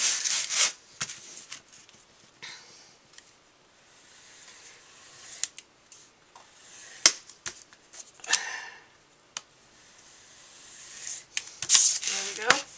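Paper corners are snipped off a handmade smash book built from a composition book, giving scattered close cuts and rustling handling noises across the stretch, with irregular pauses between.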